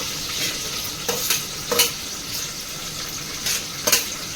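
Garlic hisses in hot oil with chillies for a tempering, a loud close sizzle broken by repeated bursts as a spoon stirs through the pan.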